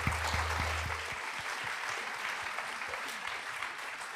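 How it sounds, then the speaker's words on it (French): Audience applause at a literary panel event, many hands clapping in a dense steady wash after a low hum cuts out at the start, sustained without pause. "Oui, je pense qu'on peut applaudir."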